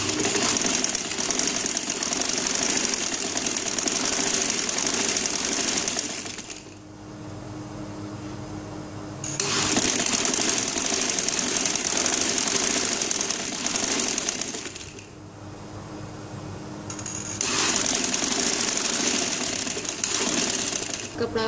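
A sewing machine stitches a baby angrakha frock, running in loud steady whirring bursts of about six seconds separated by short quieter pauses, with no talk over it.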